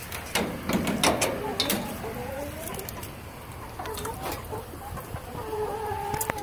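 Chickens clucking close by in short, uneven bursts, with occasional sharper calls and some faint background rustle.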